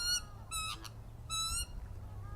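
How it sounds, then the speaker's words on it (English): Birds calling beside Western Springs Lake in Auckland: three bright, harmonic squawking calls in close succession, fairly near and clear over a low steady background rumble, with no talking. "All the bird sounds."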